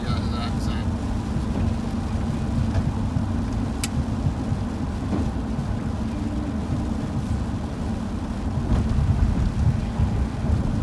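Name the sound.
rain and thunder outside the airport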